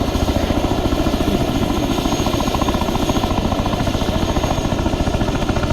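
A Chinook twin-rotor helicopter in the Arma 3 military game during an air assault, its rotors thudding in a steady rapid rhythm over a loud continuous engine whine, close and constant throughout.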